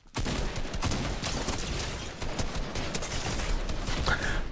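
Rapid bursts of automatic gunfire in the Fortnite video game crackle almost continuously at close range, dense and loud throughout, with a brief higher metallic ring near the end.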